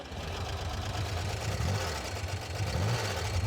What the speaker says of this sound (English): Got a cool sound. It's kind of VW, but it's got a thump.